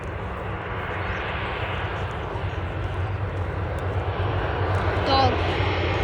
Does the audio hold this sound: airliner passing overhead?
yes